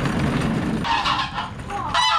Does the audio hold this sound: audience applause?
no